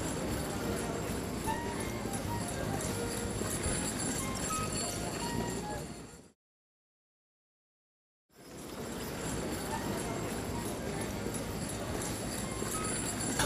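Draft horses from a six-horse hitch clop along while pulling carts at a show, with steady hoofbeats among crowd noise and a voice speaking, broken by a brief silent gap midway.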